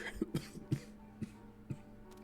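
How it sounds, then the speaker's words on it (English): A person coughs several times in a row, short dry bursts spaced irregularly, fairly close in a quiet room. "Nobody's gonna hear that coughing."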